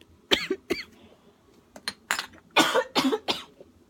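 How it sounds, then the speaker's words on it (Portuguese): A woman coughs repeatedly while going through her perfume collection, a series of sharp, close coughs that start as single bursts and become a rapid cluster near the end, with no talking between them. "já tá dando uma tosse"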